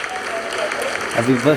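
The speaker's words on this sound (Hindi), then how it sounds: "आप तालियों के गड़गड़ाहट से सुन सकते हैं" An audience applauds during the ISRO Chandrayaan-3 lunar landing, a steady wash of clapping heard under a voice speaking over it.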